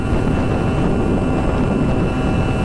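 Vintage motorcycle engine held wide open in fifth gear on a level road, one of a 1976 Kawasaki KZ900, 1974 H2B 750 or 1974 G5 100, making a steady, loud, dense drone with wind roar and no letup.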